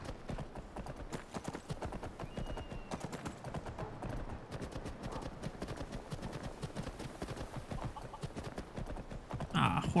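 Horse hooves clip-clopping in a fast, steady rhythm in Skyrim, continuous and fairly close throughout, with game ambience around them.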